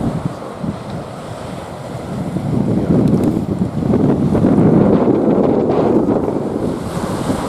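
Strong wind buffeting the microphone over a constant roar of surf on a beach on Andøya, Norway, gusting louder in the middle and never letting up.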